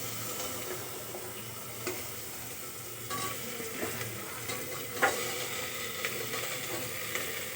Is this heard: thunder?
no